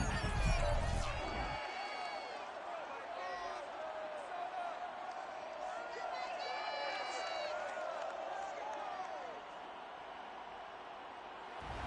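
Roar of a stadium crowd in the Madden NFL 22 video game at U.S. Bank Stadium before a Raiders versus Vikings matchup, a steady broad wash of cheering with a voice talking over it throughout.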